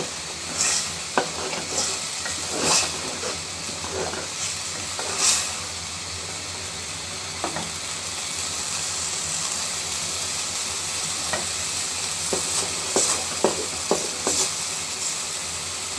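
Egg and spices stirred in a hot frying pan: a steady loud sizzle runs throughout, broken by scattered scraping clicks from the spoon against the pan, with no talking.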